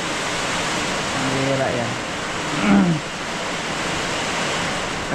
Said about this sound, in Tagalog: Lakas ng hangin, buhawi ata ito.